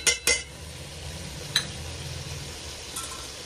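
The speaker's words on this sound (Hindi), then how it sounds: "अब मैं इसको थोड़ा सा फ्राई करूँगी इनके साथ ही, ताकि यकजान मसाले पूरे के साथ हो जाए।" Chicken sizzles softly in a pot with spices for pulao as it is stirred. A few sharp metal spoon clinks come at the start, then a quiet, steady frying hiss with occasional scrapes.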